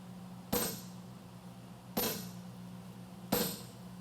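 Blacksmith hammering hot steel to pinch off a blade at a championship forging event: three sharp, ringing hammer blows spaced evenly over a low background hum, fairly faint overall with no talking.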